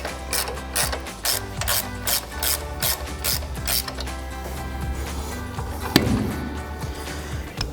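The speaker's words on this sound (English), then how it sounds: "I'm gonna take my 1/2-inch drive now with my 18 millimeter on it and just ratchet this out" A 1/2-inch drive ratchet fitted with an 18 mm socket clicks loudly and rhythmically in short bursts while backing out a bolt during a Ford F-250 front leveling kit install, with a sharp metallic knock near the end.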